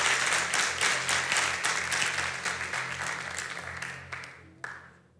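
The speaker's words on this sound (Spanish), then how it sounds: "Un aplauso recibimos al siervo del Señor." An audience applauds to welcome a pastor at a pastoral ordination service, with steady broadband clapping that gradually fades toward the end and one last sharp clap near the finish.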